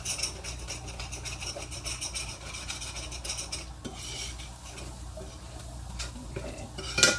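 Onions being stirred in a pan while their liquid cooks off, giving a steady rasping scrape of a utensil against the pan throughout, with a faint sizzle underneath and a sharper knock at the very end.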